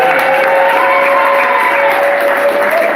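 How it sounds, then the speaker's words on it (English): Steady applause from an audience at a college Founders Day event honoring a chef, continuous and fairly loud with a faint tonal hum underneath. "Can we please give Chef Darrell White a round of applause?"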